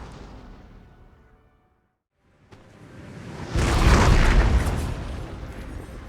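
Howitzer artillery firing in the Napoleon Total War video game: a lingering rumble fades to near silence, then a dull thump starts a building roar that swells into a loud, sustained boom.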